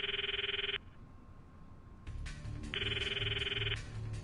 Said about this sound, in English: I stop the video and call Mayuri's phone from my address book.